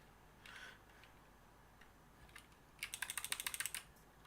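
Rapid typing on a computer keyboard, a short burst of clicks early on, then a fast run of about a dozen crisp keystrokes, quiet and close with no talk.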